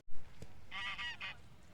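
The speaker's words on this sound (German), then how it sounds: "Schrei von der Gans." A goose in Munich gives a short, close honking scream in three quick bursts after a brief thump, loud against quiet background.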